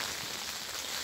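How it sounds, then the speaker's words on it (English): Rain patters steadily on the roof of a Certa greenhouse, a dense, even hiss of drops on the panels heard from inside, fairly soft and continuous with no voices. "And you can hear the rain on it now."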